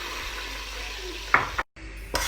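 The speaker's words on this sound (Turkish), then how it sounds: "Şimdi 2 su bardağı da irmiğimi koyup bu şekilde kavuracağım" Semolina stirred and roasted in a pan with vegetable oil and half a pack of butter, making irmik helva: a steady soft scraping and gentle sizzle with a couple of sharper utensil knocks, close and alone.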